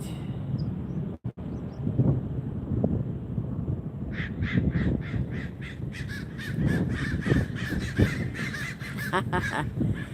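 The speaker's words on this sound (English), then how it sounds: "This is a low-flying flock of blackbirds." A low-flying flock of blackbirds passes over a beach beside LAX airport, giving repeated harsh, raspy calls that grow denser and closer over the second half, over steady wind and low rumble.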